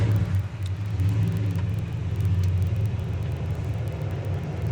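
A 1967 Chevrolet Chevelle SS idles close by with a steady, deep, lumpy rumble and no voices over it.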